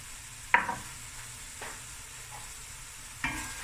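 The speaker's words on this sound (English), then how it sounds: "Give it a nice stir." Salt, turmeric and masala are stirred into a pot at the start of a Cape Malay crayfish curry. A soft, steady sizzle runs underneath, broken by three scraping stirs, with no talking.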